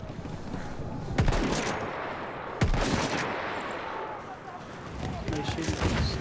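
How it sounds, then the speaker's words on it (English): Battlefield 1 video game gunfire: repeated sharp shots and bursts ring out over a dense battlefield din, with a few loud close cracks standing out against continuous distant firing. "They're shooting from the side over there."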